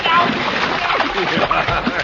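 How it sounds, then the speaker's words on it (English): Water splashes and sloshes over a man sitting in a bathtub, a steady wet spatter running throughout and close up. "don't pour that water on me"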